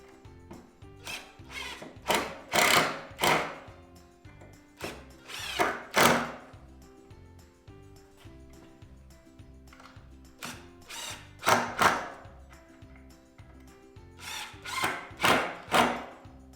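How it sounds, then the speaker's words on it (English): An impact driver fires in repeated short rattling bursts, with pauses between them, as it drives a fastener snug. The sound is close and loud. "Grab our impact driver."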